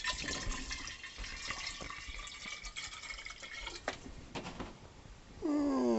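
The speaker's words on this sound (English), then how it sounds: "This is distilled water." Distilled water being poured while proofing homemade bourbon, a steady thin splashing trickle that runs for several seconds before a brief louder gurgle at the end, with no voices over it.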